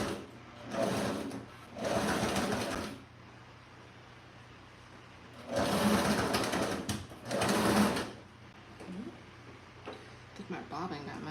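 A domestic sewing machine stitches fabric for cozy bed pillows in four loud bursts of steady whirring, separated by pauses with a faint background hum and a few small clicks.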